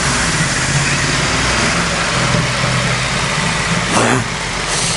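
A Ducati XDiavel motorcycle on its stock exhaust rumbles steadily at close range in an echoing enclosed space, with one brief sharp rev near the end.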